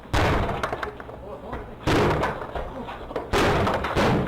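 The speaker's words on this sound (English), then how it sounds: "he was met with male suspects kicking down his apartment door and storming in" Apartment door being kicked in by intruders on security camera footage: three heavy, loud slams roughly 1.5 seconds apart, each followed by rattling and crashing, with voices underneath.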